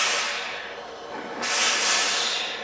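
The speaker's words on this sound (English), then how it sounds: "you're going to keep the sole off of the fabric and just hit it with steam" Steam iron blasting steam onto a fabric flower petal with the soleplate held off the cloth, a loud continuous hiss that eases briefly and then swells again, no talking.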